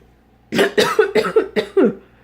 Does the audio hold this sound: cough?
yes